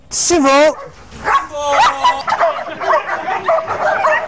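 A dog gives a couple of sharp, high yips and whimpers near the start, followed by someone talking steadily over quieter background sound.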